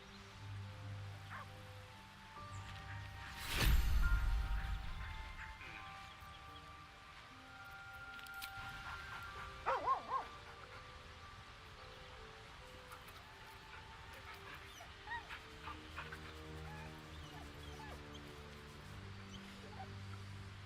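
Dog barking and whimpering in Baldur's Gate 3, with a loud burst early on followed by scattered faint yips and whines over a steady game soundscape.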